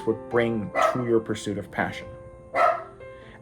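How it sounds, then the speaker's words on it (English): A pet dog barks several times in a row, loud and close, in bursts alternating with a man's speech in an indoor room. "excuse my dog"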